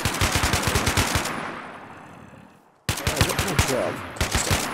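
Rapid automatic gunfire in a modded Minecraft-style shooter, dense bursts that fade out, a brief silence, then more loud, close firing.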